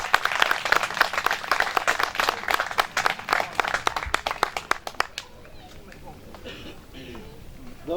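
Wedding guests at an African wedding in France applaud after a prayer, a lively burst of clapping from a crowd that fades out after about five seconds, followed by quieter room sound and voices.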